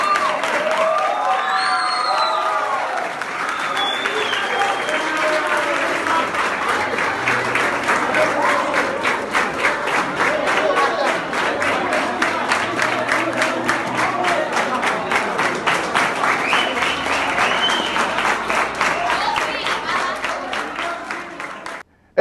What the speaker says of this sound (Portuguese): Engrossando fileiras nos aplausos para Bernadette Lira